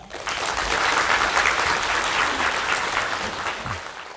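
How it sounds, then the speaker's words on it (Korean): Audience applause greeting a tax accountant invited on stage to give a lecture on financial planning at a live seminar event, steady dense clapping from a large crowd lasting throughout, loud and close, with no talk over it. "자, 그러면 큰 박수로 문재한 세무사님 모셔보겠습니다."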